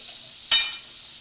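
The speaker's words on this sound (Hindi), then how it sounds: "और अब इसमें डालूंगी मैं विनेगर" Vinegar poured into a hot cooking pan while making homemade fusilli pasta, giving one brief, close sizzling splash that fades within a fraction of a second against a quiet kitchen background.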